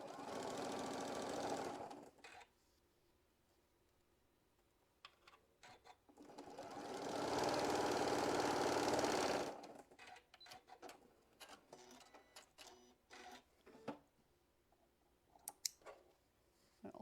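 A sewing machine stitches a scant quarter-inch quilt seam in two loud bursts, a short one and then a longer, steady run, separated by quiet gaps filled with light clicks and handling sounds.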